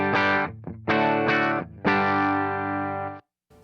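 Electric guitar through a Flashback delay and Hall of Fame reverb pedal after a volume pedal on a pedal board: a few thick, sustained chords and notes with a swelling echoing tail, close and loud, then a brief gap.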